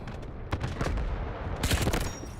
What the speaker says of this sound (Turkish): Şimdi buradan şu keskin nişancıyla çok güzel bir headshot.